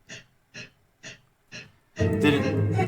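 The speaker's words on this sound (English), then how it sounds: "it's like breathing sound" Four evenly spaced, breathy bursts, like slow inhales and exhales left unquantized in a dark, old-school military-style beat, lead into the full beat starting up loud and dense.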